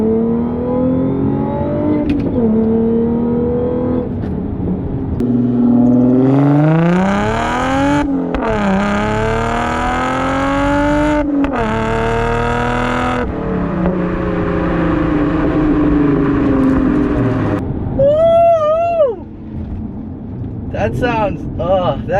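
An Audi S4/S5 fitted with an AWE exhaust accelerates hard in first gear on a road in Mexico, its engine note climbing steadily and loud, with brief shift dips, talk and excited voices over the run.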